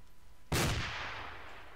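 A single sharp blast from a frag grenade or gunfire in the video game ArmA 2 hits suddenly and loud, then trails off in a long rumbling decay.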